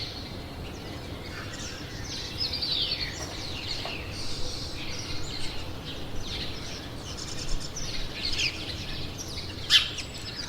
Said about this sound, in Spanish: Lo del canto de los pájaros